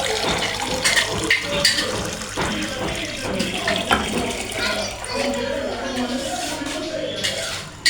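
Water poured into a cooking pot while making chana dal chicken, a steady splashing stream running for several seconds at close range with a voice faintly in the background.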